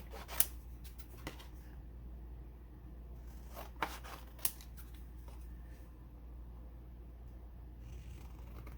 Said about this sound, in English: So then fussy cut around the letters.